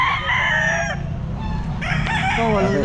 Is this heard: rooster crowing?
yes